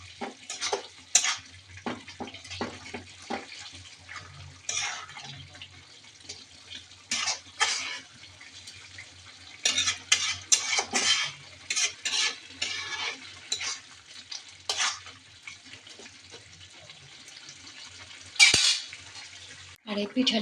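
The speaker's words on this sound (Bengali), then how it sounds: "এরকম নেড়ে চেড়ে নিচ্ছি শাকটা আর এই পিঠালি" Leafy greens mixed with a rice flour paste are stirred in a pan, giving irregular scraping and clinking strokes of a utensil against metal, some quick and clustered, others isolated, close up with a faint sizzle beneath.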